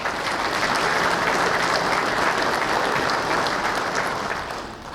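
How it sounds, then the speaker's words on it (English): Loud, dense applause from a large convention audience, steady clapping filling the room for about five seconds before tapering at the end. "So give yourselves a round of applause."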